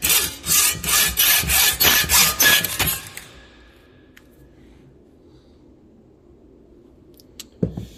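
A hand saw cuts a spring to length in a steady series of about ten rasping back-and-forth strokes, close and loud, then stops, leaving near silence with a single faint knock at the end.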